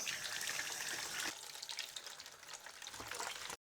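Water poured from a scooper out of a bucket over someone's head during a bucket shower, a steady close gush and splash at the start, then softer trickling and dripping that swells again near the end.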